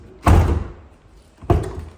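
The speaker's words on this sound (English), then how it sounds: "your door lock should be working just like this" A repaired DC2/DC4 Honda Integra door lock is worked twice, each time giving a solid, close clunk about a second apart, with quiet between and no talking.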